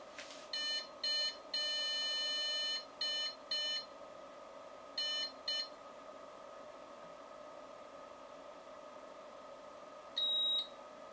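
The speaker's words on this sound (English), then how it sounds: "The beep tones are telling us that the first upgrade step was automatically performed." Anycubic Photon 3D printer beeping during a firmware update: a quick series of short, loud electronic beeps in irregular bursts, then a pause over a steady fan hum, followed by one final longer beep.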